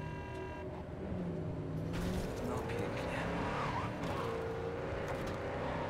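In Cyberpunk 2077, a heavy, tank-like car drives with a steady engine roar while its tyres squeal and skid in drawn-out wails. Someone talks over the driving.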